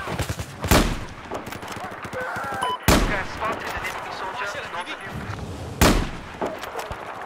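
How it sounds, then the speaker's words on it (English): L115 sniper rifle shots in Battlefield 4 ring out as three sharp, loud cracks spaced a few seconds apart, each with a rolling tail, over a busy battlefield background with faint voices. "This is the L115 sniper, by the way, formerly known as the L96."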